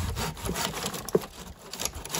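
Short, quiet strokes of a hand saw cutting through bamboo while a solitary bee hotel is being made, with rough, rasping rubs and a small snap of wood partway through.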